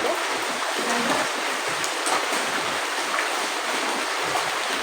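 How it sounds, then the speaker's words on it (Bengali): Rain falls steadily outdoors as an even, continuous hiss, moderately loud and close, with no voices. "বৃষ্টি পড়তেই আছে পড়তেই আছে"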